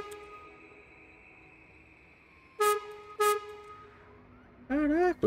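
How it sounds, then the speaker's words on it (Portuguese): A train horn in the video game Voidtrain sounds in two short blasts, then a longer wavering toot after a pause, loud against a quiet electronic hum, with no voices. "A buzina?"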